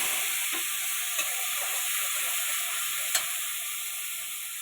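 A water-thinned mixture of yogurt, chili powder, turmeric, cumin and salt sizzles in a hot pan while spinach is fried. The frying hiss is steady and soft, with a couple of faint clicks and no talking.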